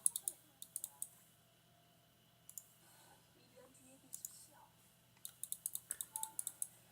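Computer keyboard keys are pressed during a game of League of Legends, with quiet, sharp clicks coming in scattered bursts and a rapid run of taps near the end over a low hum.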